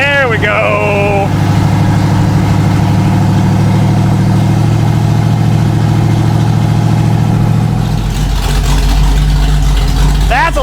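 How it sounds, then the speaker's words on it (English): A 1979 Cobra's engine, fitted with headers and an H-pipe, rumbles at idle with a deep, steady exhaust drone, briefly rising in pitch near the end; a voice talks over it at the start. "I'm dying to hear what this thing sounds like, so let's start it."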